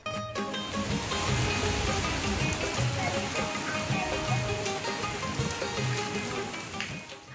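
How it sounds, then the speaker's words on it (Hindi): Heavy evening rain pours down steadily in a dense, continuous hiss, with scattered louder drops and patters landing on nearby surfaces. "शाम को भी ऐसी ही बारिश हो रही है।"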